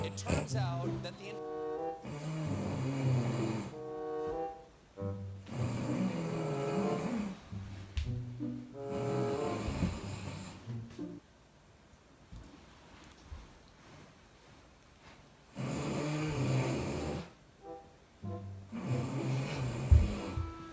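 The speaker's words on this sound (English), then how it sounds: "You snoring, man." A person snores in repeated long rasping breaths with regular gaps, close and fairly loud, with a quieter pause midway before the snoring resumes.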